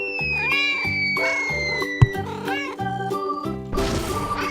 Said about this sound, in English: A cat says meow meow.